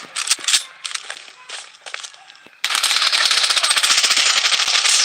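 Gunfire in the Blood Strike battle royale game starts as scattered, irregular shots and short bursts, then turns into a sudden loud, continuous stream of rapid fire that runs to the end.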